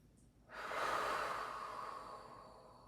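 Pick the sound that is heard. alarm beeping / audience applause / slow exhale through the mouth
slow exhale through the mouth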